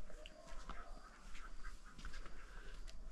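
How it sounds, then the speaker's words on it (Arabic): Ducks quack faintly at night on a rooftop in Ait Bouguemez, Azilal, Morocco, with a few scattered calls over low, steady outdoor background hiss. "البط مشى دخل بلاصتو"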